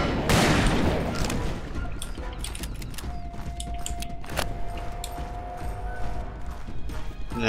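Rapid gunfire from rusty guns in the Western shooter Call of Juarez, a dense, loud fusillade of cracking shots that keeps going without a break, with brief metallic clanks mixed in.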